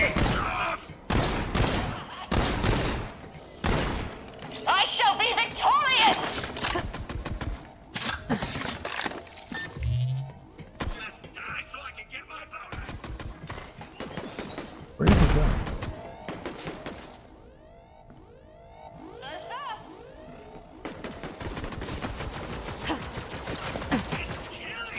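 Video game gunfire in Borderlands 3 during a space laser tag match: many sharp, loud, broadband shots and bursts in irregular clusters, with game effects and a voice talking in between.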